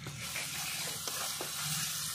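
Spice paste (masala) sizzles continuously as it fries in oil for a pangas fish curry, a close, dense hiss with light stirring scrapes throughout.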